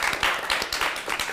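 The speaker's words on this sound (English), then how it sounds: "Can we give a round of applause for Ms. Raamla?" An audience at a talk event applauds for about a second and a half, with individual claps standing out as uneven bursts in a small room.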